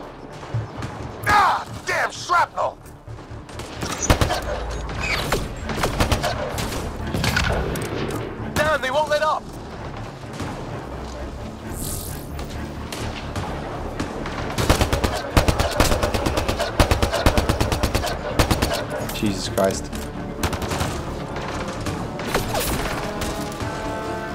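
Rapid bursts of automatic weapon fire and blasts in the video game Mass Effect Andromeda keep up for the whole stretch, dense and loud, with game effects and a voice speaking at times amid the shooting.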